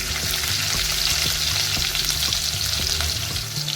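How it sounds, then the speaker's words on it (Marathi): Finely chopped onion frying in a pan, a loud, steady sizzle that fills the whole stretch, with a few soft utensil knocks and stirs underneath. "त्यानंतर एक बारीक चिरलेला कांदा टाकायचा आहे"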